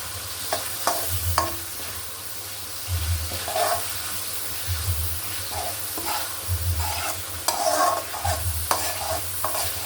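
Hilsa fish frying with spices in a pan for a potol-aloo curry, with a steady sizzle and repeated scraping stirs, a broad hiss under a low rhythmic hum.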